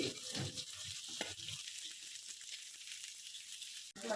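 Chopped onion and green chillies frying in a pan for paneer chilli, giving a steady hiss of sizzling oil with a few stirring scrapes early on and a sharp tap near the end.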